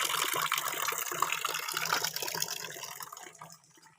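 Water gushes from a cow-mouth gaumukh spout at a Shiva temple. It makes a continuous, splashy close-up rush that gradually fades out near the end, with no voices.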